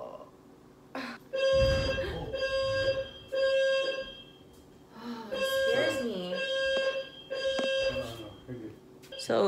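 An apartment complex fire alarm blares in repeated, evenly spaced electronic tones, loud and close, while people talk over and between the bursts.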